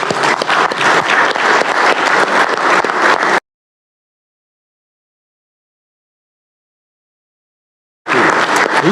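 Clapping fills a state Senate chamber in loud, dense bursts, breaking off into complete silence midway before resuming.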